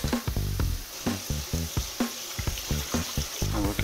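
Cooked noodles are drained in a colander, water rushing out in a close splashing pour broken by quick rhythmic bursts as the colander is shaken.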